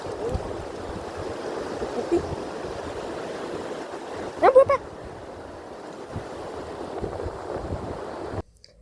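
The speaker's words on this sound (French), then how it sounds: "je vous ai laissé un petit peu profiter du paysage et du bruit des vagues" Ocean waves wash steadily along a holiday coastline in a soft, continuous surf hiss, with a brief louder burst of sound midway before everything cuts out near the end.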